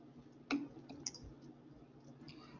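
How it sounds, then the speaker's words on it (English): People type on computer keyboards during a live online lecture, giving a few sparse, faint clicks over a low background hum. "some people are typing"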